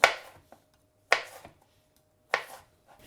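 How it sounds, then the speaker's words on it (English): A knife slices through aubergine lengthways into strips on a board: three sharp, crisp cuts at roughly one-second intervals, each followed by a softer tap, close and clear with no voices. "So cut them in these little strips."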